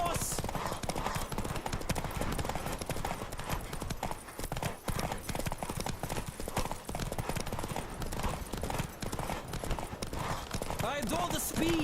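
Rapid, continuous hoofbeats of a galloping horse in the video game The Witcher 3 pound throughout, with a voice speaking over them and a short whinny near the end.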